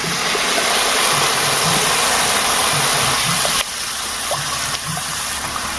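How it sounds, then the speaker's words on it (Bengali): Water is poured into a fish curry pot on a rooftop clay stove, a loud, steady gushing rush that stops abruptly partway through, leaving a quieter, softer flow with faint low bubbling underneath. "পরিমাণ মতন জল দিয়ে দেবো।"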